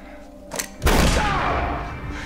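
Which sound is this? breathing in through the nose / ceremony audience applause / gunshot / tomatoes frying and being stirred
gunshot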